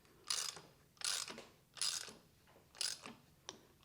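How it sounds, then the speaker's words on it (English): A ratchet tightens the prop nut on a Power-Pole Move ZR trolling motor in five short, close bursts of rapid clicking, each separated by a brief pause. "go ahead and finish it off with the ratchet"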